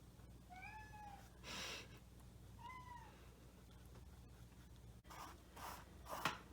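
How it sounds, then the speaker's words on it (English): A nearby cat meows twice with clear, tonal calls, mixed with soft brush strokes and scratchy rubbing noises from painting, in a quiet room. "Sorry for the cat."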